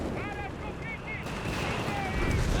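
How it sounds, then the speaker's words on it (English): Artillery fire in Company of Heroes 3, a rolling series of distant thumps and crackling shots layered under steady battle noise, while a voice talks over it. "Meanwhile, we got more artillery fire here"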